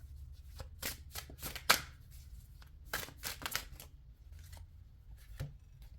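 Tarot cards shuffled by hand in a quiet room, a run of close riffling and slapping bursts in uneven rhythm, several quick shuffles separated by short pauses, with no talking.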